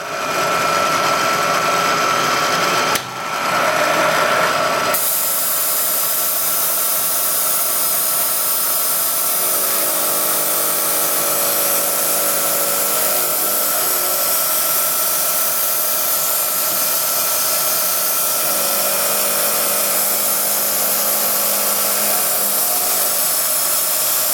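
A CNC machine cuts head bracket parts with a steady, loud, continuous whirring spindle whine and hiss that holds for the whole stretch, with a brief change in tone near the start and faint shifting tones underneath.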